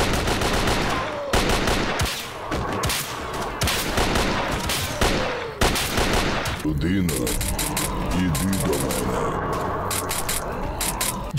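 Gunfire in the video game Radiophobia 3 comes as rapid bursts of shots and fusillades, loud and near throughout, with speech mixed under the shooting.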